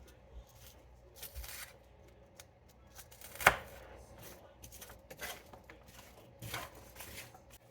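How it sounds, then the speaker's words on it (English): Repeated knife chops through spinach on a cutting board, irregular taps spread across the clip with one sharper, louder strike near the middle, fairly close. "we're gonna head back over to the cutting board and start chopping up some of that spinach"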